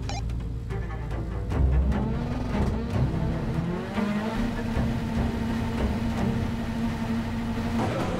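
A rallycross race car at the start line pulls away, its engine rising in pitch through the gears with tire noise, loud and close, under a steady background of other cars.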